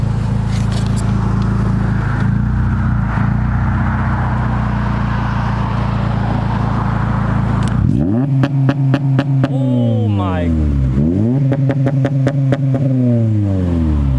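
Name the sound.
Acura RSX Type S engine revving with launch control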